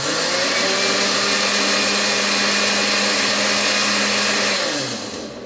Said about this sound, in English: Now I just want to blend them in the blender.